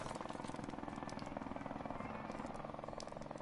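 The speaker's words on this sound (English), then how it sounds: "Friendly helicopter on the way!" A friendly helicopter in Call of Duty Modern Warfare Remastered multiplayer, with steady rapid rotor chopping and a dense engine roar that stays loud and close throughout, with no speech.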